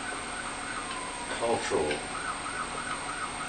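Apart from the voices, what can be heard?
ambulance siren passing outside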